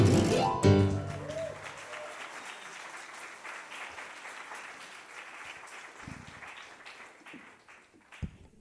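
Audience applause at an arts and humanities congress panel, starting loud with a brief burst of voices and a few tones at the start, then fading gradually into scattered claps over several seconds.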